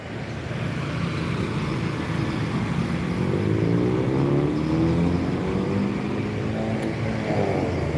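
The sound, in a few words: buses and trucks passing Palembang bus terminal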